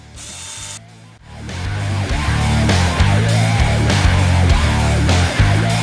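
Power tool whirring and ratcheting in repeated bursts while shocks are bolted onto a Kyosho Mad Wagon RC kit, close up and loud, after a brief quiet start.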